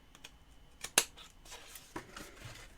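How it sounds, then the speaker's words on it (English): A single crisp snip of scissors cutting cardstock along a score line while making a Stampin' Up notebook pouch, a short close-up click amid quiet background with small paper rustles. "you're going to cut up what's now the first score line"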